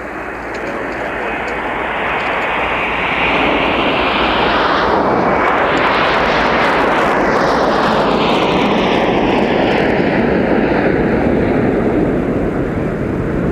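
A Delta airliner's jet engines at Minneapolis airport roar loudly and steadily as the plane passes close by, with a sweeping whine that rises and falls in pitch over the continuous rumble.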